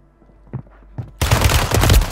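Pistol and loadout gunfire in a battle royale video game on Rebirth Island: a few faint thuds, then a sudden dense, loud burst of rapid overlapping shots that continues without a break.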